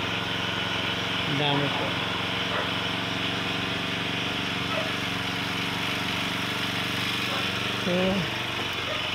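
A grass cutter engine runs in a steady, loud, buzzing drone while cutting grass, with a person speaking over it.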